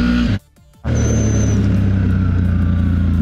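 A CF Moto 1000 motorcycle fitted with a sport intake kit revs loudly and close, with a steady engine drone that cuts out briefly before surging back into a sustained roar.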